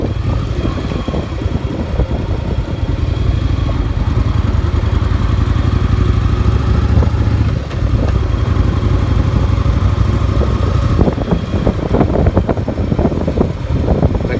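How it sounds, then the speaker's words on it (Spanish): A Yamaha XV 750 motorcycle, recently repaired for a misfiring cylinder and carrying two riders, accelerates with a steady low engine drone under heavy wind rush, rising briefly near the end. "Tenemos 200 kilos arriba de la moto y estamos acelerando."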